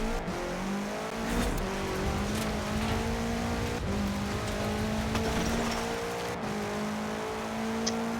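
A car engine revs and accelerates in the racing video game Forza Horizon 4, with a steady droning whine that climbs in pitch and steps through gear changes, played loud and continuous with rain-like background noise.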